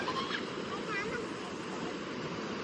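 Water released from a dam flowing into a river: a steady broadband rush like distant surf, with faint wind buffeting and a few light background voices.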